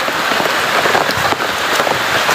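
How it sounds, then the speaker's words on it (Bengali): Heavy rain pours steadily and loudly onto surfaces, a dense unbroken hiss of drops with scattered louder patters, and no one speaking. "বৃষ্টি হচ্ছে তুমুল বৃষ্টি।"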